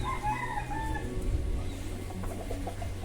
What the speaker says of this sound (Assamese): এখন কুকুৰাৰ ফাৰ্ম,